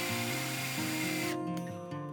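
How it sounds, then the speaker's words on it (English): An old axe handle top being bored with a drill fitted with a concrete bit, a steady whirring motor with grinding, ratcheting tones that shift pitch as the bit bites into the wood, close and continuous. "Drilling into the top of the handle like this breaks up the old wedge and releases the pressure and tension in the wood"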